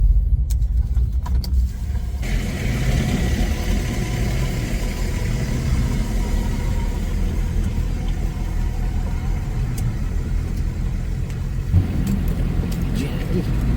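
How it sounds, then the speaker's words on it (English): A big diesel camper van drives along, its steady low engine drone and road rumble loud and continuous throughout, with a few faint clicks over the noise. "Jackie, you better do a good job driving, Jackie."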